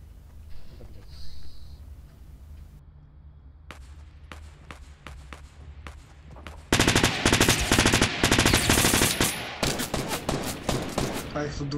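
Fortnite automatic weapon fire, scattered single shots at first, then a dense, loud burst of rapid gunfire over a low game background, with a player's voice faint underneath.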